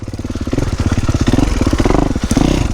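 A two-stroke motocross bike revs hard on a dirt trail. The loud, close, buzzing engine note pulses rapidly and steadily throughout, swelling with throttle blips.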